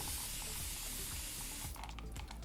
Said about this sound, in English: I will spray this down to get a little bit more water